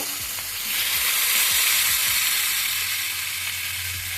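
Chicken frying in a pan for a spinach chicken dish, a loud, steady broadband sizzle with a few scraping stirs of a utensil against the metal, close up and without talk.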